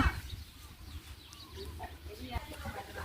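Chickens cluck and call faintly in the background of a noisy outdoor scene, with people talking over the steady ambient hiss.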